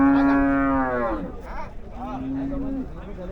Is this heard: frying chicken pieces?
no